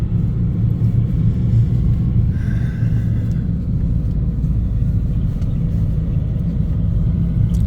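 Vehicle towing a car on a trailer as it pulls into the QR venue: a steady, close, low engine rumble throughout, with no talk.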